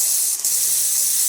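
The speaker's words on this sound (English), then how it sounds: "Here's the steam," A close, steady high-pitched hiss of steam jetting from a Nuova Simonelli Musica espresso machine steam wand, continuous with a brief dip.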